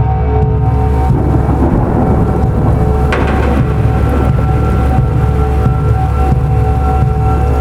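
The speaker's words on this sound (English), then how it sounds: "the rain didn't stop, it was getting heavier" A steady, dense roar of heavy rain pours down without pause, loud and close, with a low rumble underneath throughout.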